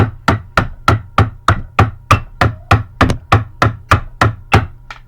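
High school marching tenor drums (quads) playing the Around the World pattern, a steady run of evenly spaced, sharp drum hits moving around the drums at a brisk pace, loud and alone.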